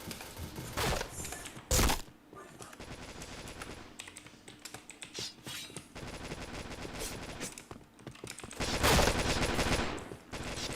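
Rapid bursts of gunfire crackle through a shooting video game, mixed with clattering keyboard taps and a few loud, heavy blasts, with no talk over them.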